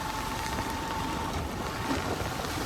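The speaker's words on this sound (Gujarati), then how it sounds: "બે દિવસથી અમારે વરસાદ વરે છે" Rain pours steadily and densely, a continuous hiss of drops on surfaces nearby with no voices.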